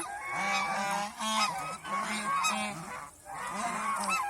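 A flock of domestic geese honking close by in a repeated chorus of nasal calls, overlapping and nearly continuous, with no voices.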